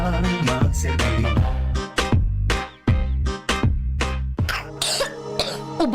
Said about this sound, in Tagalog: Ubo ng anak?